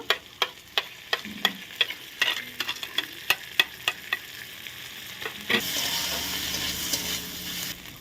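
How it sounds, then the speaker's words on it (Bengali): Cumin and ginger paste frying in a pan, with a spoon scraping in sharp regular strokes over a soft sizzle that swells into a louder, steady hiss near the end. "ভালো করে নাড়া দিয়ে ভেজে নেব"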